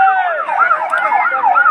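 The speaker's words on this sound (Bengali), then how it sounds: "নিচ দিয়ে দেখা যাচ্ছে ফায়ার সার্ভিসের গাড়ি" A fire service vehicle's siren wails loud and close, sweeping up and down continuously, as it arrives at a passenger train fire on the Dhaka–Mymensingh line in Gazipur.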